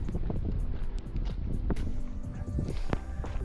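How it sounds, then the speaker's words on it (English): Strong wind buffets the microphone during a 50 km ultra marathon at Hurtwood, a steady, rough roar with gusty swells lasting throughout and no voices. "Wind was crazy here"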